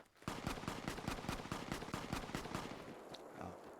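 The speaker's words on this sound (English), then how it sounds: "Okay, I hear some shooting." Rapid automatic gunfire in Fallout, a steady burst of evenly spaced shots for about two and a half seconds that then thins out into a quieter tail, with no talking.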